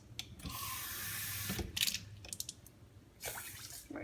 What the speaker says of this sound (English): You're going to put 2 cups of water into your rice.